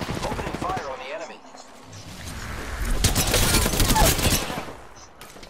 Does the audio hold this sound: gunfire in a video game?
yes